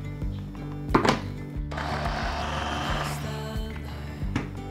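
Blender pureeing a spice marinade of turmeric, white pepper, fennel seed and salt, starting with a few thunks and then a sustained whirring grind, close and steady, with no talk.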